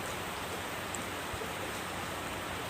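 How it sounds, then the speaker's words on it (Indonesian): Heavy rain falls in a dense, constant hiss of drops on surfaces, loud and unbroken from start to finish with no voices. "Ini yang hujan deras siapa ya hujan deras?"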